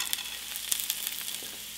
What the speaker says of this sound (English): So right after that, we're going to add our mushrooms,